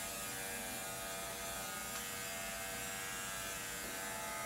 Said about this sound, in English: we're gonna switch to a nice clipper. It's called a Peanut, and it's a pretty sharp tea trimmer